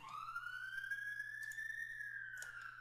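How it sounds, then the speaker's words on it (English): A siren wails past outside an open window, a faint, smooth rising and falling tone heard from a distance, with no talk over it. "I didn't expect sirens to go by"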